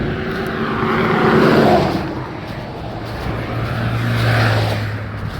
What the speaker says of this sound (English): So many cars out today.